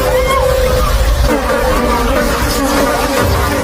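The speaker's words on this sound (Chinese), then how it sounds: "紧接着他们又听到了大量苍蝇的声音" A dense swarm of flies buzzing loudly and continuously as a film sound effect, a thick droning hum filling the whole moment without pause, underpinned by a low rumble.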